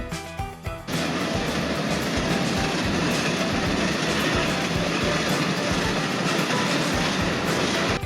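Probal Express passenger train running at night on the line toward Dulhazara station, a loud continuous rumble and rattle from inside the carriage with rhythmic wheel clatter after a brief quieter opening.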